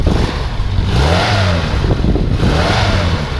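A 1958 Morris Minor 1000 quarter-ton pickup engine revs loudly up close, rising and falling in a couple of quick throttle blips over a steady rumble, with no talking.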